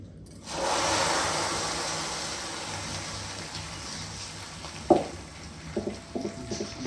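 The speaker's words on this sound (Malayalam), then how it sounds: "നമുക്ക് വറവിട്ട് കൊടുക്കാം." Oil bursts into a loud sizzle as curry leaves drop into a hot pan for tempering, then keeps crackling and hissing steadily, with a few clinks near the end.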